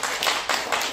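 An audience in a lecture-hall auditorium claps in short bursts, several separate swells of applause at close range, moderately loud and with no talking over them.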